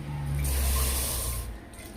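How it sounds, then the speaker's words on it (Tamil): Water pours into a pressure cooker holding moong dal, a loud close rushing hiss that swells, holds for about a second and then eases off. "இப்போ நம்ம பருப்பு எடுத்து அதே கப்பில் 3 கப்பு தண்ணி சேர்த்துக்கலாங்க"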